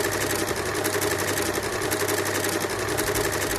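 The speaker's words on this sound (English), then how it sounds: "put our 24-inch strips into the overlocker and just overlock them right sides together at the ends" An overlocker seams fabric strips together, right sides facing, at the strip ends, running at a fast, even mechanical chatter with a rapid rhythmic stitching pulse throughout.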